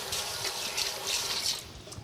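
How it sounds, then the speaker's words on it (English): Running water splashes and trickles steadily as hands are washed under a tap in a home kitchen, close and uninterrupted for a couple of seconds. "Let me just wash my hands."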